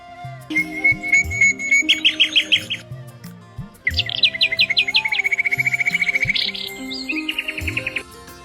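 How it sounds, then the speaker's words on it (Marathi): Birds chirping by a riverbank in a small European town, bright repeated trills and tweets in quick rhythmic bursts, close and clear over a quiet background. "पक्ष्यांची किलबिल"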